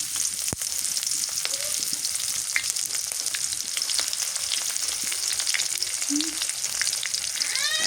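Chopped onions fry steadily in a pan for a curry with bottle gourd and salted hilsa, a continuous close sizzle with scattered pops and crackles throughout.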